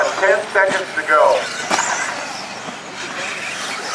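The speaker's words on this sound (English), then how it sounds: "Just watch some cars go through this double in the last five lap." Four-wheel-drive modified race cars rumble and roar through a double jump on a dirt track during a heat race, with engine noise running under loud commentary.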